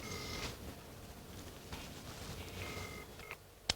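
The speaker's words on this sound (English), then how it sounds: "I'm going to phone the house to see how things are. I'm ringing a number in the study." Phone keypad tones ring out as a number is dialed to an unlisted line in a home study. Several short beeps come at irregular intervals over a faint background hiss, ending in a sharp click, with no talking.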